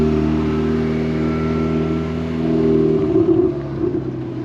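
A tuned car with a non-standard aftermarket exhaust idles with a deep, steady drone, then gets a short blip of revs near the end, heard close and alone.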